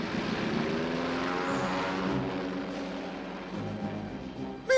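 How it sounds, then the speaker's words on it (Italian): Propeller airplanes droning steadily nearby, a continuous buzzing engine hum that holds level throughout with a sudden louder thump at the very end. "Sbrighiamoci, prendiamo questi aerei."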